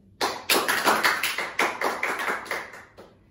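A brief round of applause from a small group in a quiz class, with about a dozen sharp, distinct claps in quick uneven succession that fade out after a few seconds.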